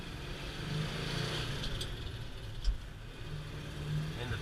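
A well-sorted old truck pulls away in second and shifts up through the gears, its engine giving a steady, close mid-range drone with a brief thump partway through.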